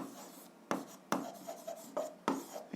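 A pen scratches across paper while someone works a seventh-grade algebra exercise, in several short, distinct strokes separated by brief quiet pauses, close and fairly soft, with no talking.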